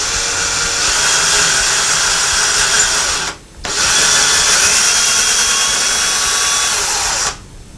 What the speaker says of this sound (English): we drill very slowly into that hole that you previously made. Don't push, let the drill do the work.